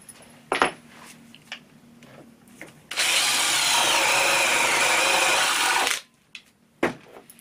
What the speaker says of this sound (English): Spade bits are commonly used to sink large bolt heads or screw heads like this into a piece of timber.